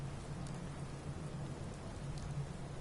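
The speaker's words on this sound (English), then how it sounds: "It sounded like rain rattling on a tin roof." Steady rain patters continuously on a tin roof in a video game (Fallout 4, Sanctuary Hills), an even, dense hiss of drops with no breaks.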